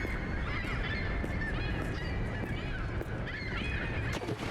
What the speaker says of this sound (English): Again, the birds are restless.